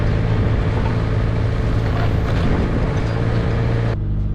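A vehicle pushes through a heavily overgrown bush track, with loud, steady engine drone and continuous scraping and brushing of thick vegetation against the body, cutting out abruptly near the end.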